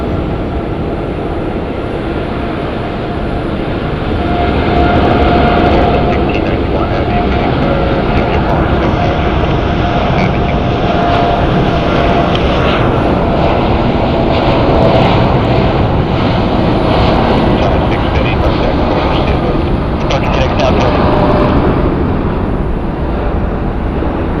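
Jet airliner departing Phoenix Sky Harbor Airport, a loud, steady broadband engine roar that holds for the whole stretch with a slight swell after the first few seconds, heard from fairly close with no talk.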